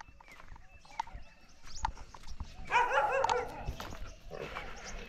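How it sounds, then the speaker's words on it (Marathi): A pack of dogs barks outdoors on a cold day near a rocky patch with a water channel, a burst of overlapping barks in the middle over steady background noise, moderately near. "इथं बघा कुत्र्यांची झुंडच झाली."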